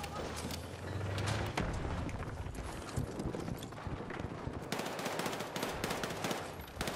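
Rapid gunfire from the SGX weapon in the Battlefield 6 beta on the Siege of Cairo map, bursts of shots and impacts amid dense battle noise, with someone talking over the action.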